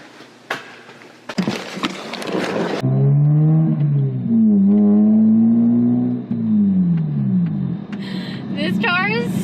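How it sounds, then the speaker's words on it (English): A loud wide-body Mazda RX8 with a rotary engine revs up close, its note rising and falling in long sweeps after a few sharp knocks, with a person talking at the start and end. "This car is so loud, it's obnoxious."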